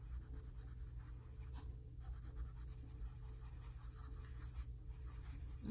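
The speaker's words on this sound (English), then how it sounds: "I am using alcohol markers, which goes through the paper, so I do have a blotter sheet down" Alcohol marker rubbing on paper laid over a blotter sheet, a faint, continuous scratchy stroking with brief pauses and no voices.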